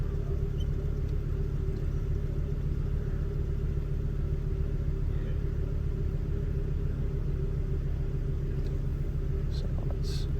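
A car engine runs in an evaporative-emissions system lab, a steady low idling rumble heard close and unbroken throughout, with a few faint clicks near the end.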